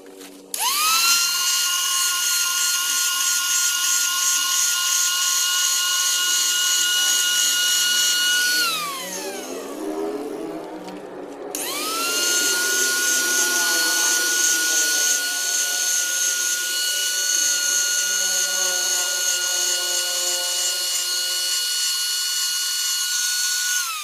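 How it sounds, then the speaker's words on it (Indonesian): Angle grinder thinly grinding the slick outer layer off car brake pads, done in place of sandpaper: a loud, steady high-pitched whine that dips and spins down briefly midway, then revs back up and keeps grinding. "Saya pakai gerinda karena gak ada amplas."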